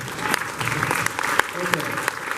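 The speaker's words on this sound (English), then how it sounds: "even some of the kids are clapping" Children clapping during a chicken processing lecture and demonstration, scattered uneven claps in a loose rhythm at moderate distance, with a voice talking over them.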